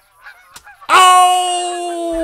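A flock of geese honking in theHunter: Call of the Wild while bow hunting: a few soft, faint calls at first, then one loud, drawn-out nasal honk that rings on steadily to the end.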